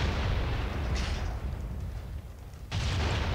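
Gunfire in the combat video game The Outfit: heavy booming shots burst out twice, once about a second in and again near the end, over a steady background din.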